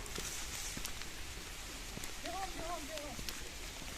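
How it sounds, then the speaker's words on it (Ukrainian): Steady light rain patters throughout, with faint rustling and brief chirping tones partway through; no one speaks. "І дощ пішов."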